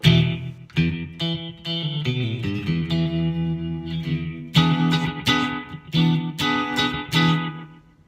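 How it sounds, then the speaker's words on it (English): Twangy electric guitar notes and chords through a Headrush unit with slapback delay and reverb off, each followed by a quick, tight repeat, dry without lingering reverb tail. "let's turn the reverb off just so you can hear the slap back there"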